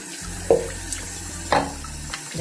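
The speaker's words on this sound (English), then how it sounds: "using the hot water of your tap, give it a very, very thorough rinse" Hot water from a kitchen tap splashes into a container during a thorough rinse, a steady close stream broken by a couple of sharper sloshing bursts, with no talking.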